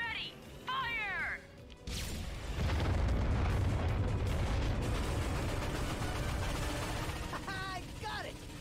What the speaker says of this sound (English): Cannon's ready! Fire!